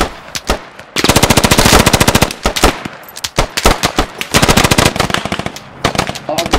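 Machine gun fire in the tactical shooter game Squad: rapid, loud automatic bursts of varying length, one long sustained string followed by shorter choppy volleys, close and harsh, with faint voices underneath.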